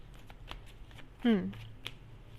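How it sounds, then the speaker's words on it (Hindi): Tarot cards are shuffled and pulled from a deck, giving soft, sparse flicks and snaps at low volume, with a brief voice sound partway through. "पहले मैं थोड़ा सा यहाँ पे कार्ड्स निकाल लेती हूँ"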